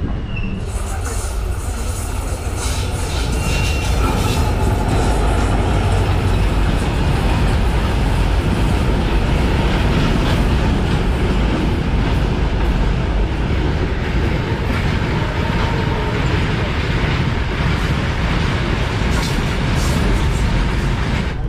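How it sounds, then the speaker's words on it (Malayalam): Matsyagandha Express pulling out of Udupi station on the Mangaluru Central to Lokamanya Tilak Terminus run, a steady loud rumble of rolling train wagons lasting throughout, with a voice speaking over it. "ഉടുപ്പിന്ന് വണ്ടി എടുത്തു കേട്ടോ."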